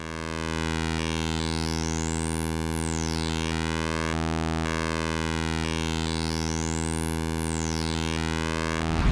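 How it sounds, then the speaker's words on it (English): EarthQuaker Devices Wave Transformer synth oscillator hard-synced by a negative pulse, a loud steady buzzy drone whose bright overtones sweep up and back down in a slow, repeating siren-like arc, alone with no talk. "Now we are hearing a negative pulse."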